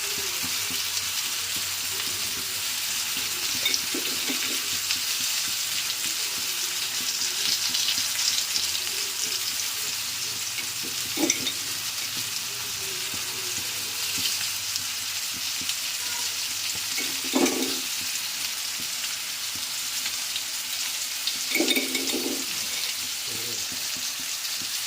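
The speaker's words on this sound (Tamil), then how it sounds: "நம்ம இங்கெல்லாம் கொஞ்சம் கொஞ்சம் எண்ணெய் ஊற்றி விடலாம். அப்போ தான் நம்மளுக்கு நல்லா ஃப்ரை ஆகும்." Brinjal slices fry in oil in a pan for a South Indian kathrikkai poriyal, a steady close sizzle running throughout with a few brief scraping and stirring knocks.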